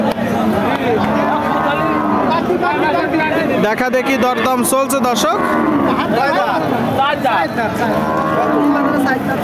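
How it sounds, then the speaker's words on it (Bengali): A large red cow and other cattle low loudly at a market during bargaining, with a drawn-out moo rising over close, continuous talk and crowd bustle. "আপনারা দেখতে পাচ্ছেন সামনে একটা লাল গরু, একটু বড় সাইজের গরু।"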